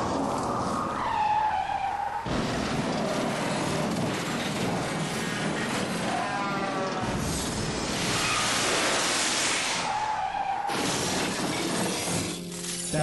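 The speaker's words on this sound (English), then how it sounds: "That's you in a car crash." A car skids and crashes in a texting-and-driving warning, with loud, harsh tire screeches and grinding and shattering noise, repeated over several seconds.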